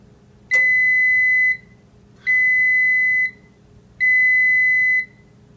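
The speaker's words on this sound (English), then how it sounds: "3 medium beeps. That's the sound that you hear when the cook cycle is finished" Three medium-length electronic beeps from a KitchenAid convection countertop oven at the end of its cook cycle, evenly spaced and clear against a quiet room.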